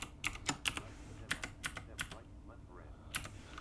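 Computer keyboard keys are tapped while coding in C#, giving about a dozen crisp, close clicks in quick irregular bursts with short pauses between them.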